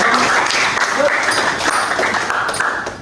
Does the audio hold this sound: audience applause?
yes